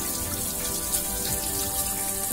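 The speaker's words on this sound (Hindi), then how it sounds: "कि देखिए ये पानी यहां से आ रहा है," Water runs steadily from the pipe of a newly unboxed washing machine. It makes a continuous close hiss with a faint mechanical hum underneath and no talking.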